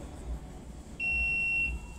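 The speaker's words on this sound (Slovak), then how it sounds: "keď stlačia, tak sa spustí alarm" Electronic alarm from a manual fire suppression trigger button starts with a steady high-pitched beeping tone about halfway through, faint and mid-distance, running for under a second against quiet room noise.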